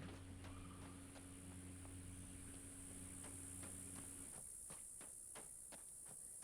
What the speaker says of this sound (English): It's crickets, that's what the noise is.